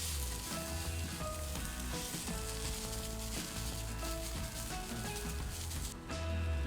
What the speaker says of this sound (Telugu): అల్లం వెల్లుల్లి కొంచెం వేగింది.